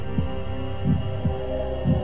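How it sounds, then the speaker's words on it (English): Heartbeat sound effect from the horror game Ib: low, thudding double beats pulse at a steady slow rhythm over a constant droning hum, with no voices. "Heartbeat."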